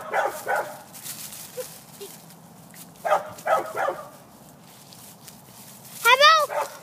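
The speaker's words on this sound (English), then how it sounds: "How about dogs fighting cat? Oh, cat fighting dog." A dog scuffling with a cat gives short clusters of yips and barks, then a whining, rising cry near the end, all close by while people talk over it.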